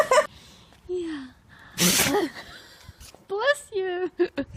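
Several animals sneezing in quick succession, short sharp bursts with squeaky whimpers and gasps between them, close and fairly loud, with people talking and reacting nearby.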